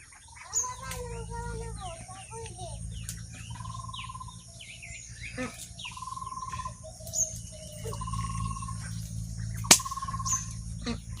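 Several birds chirp and whistle in short, varied calls outdoors near a village home, some near and some farther off, over a low steady hum with a faint insect trill and one sharp knock.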